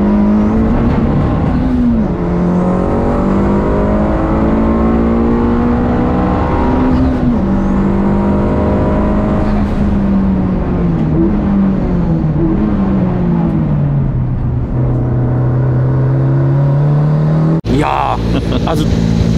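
A Porsche pulls away and accelerates hard, its engine note rising and dipping through gear changes in a loud, continuous drone heard from inside the car, with voices talking over it and an abrupt shift near the end.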